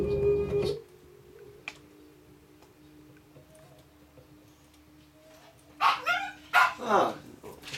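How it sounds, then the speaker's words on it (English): Dogs bark in a short burst of several sharp yips and barks toward the end, slightly distant. Quieter stretches with faint tones and a few clicks come before them. "dogs are starting as usual"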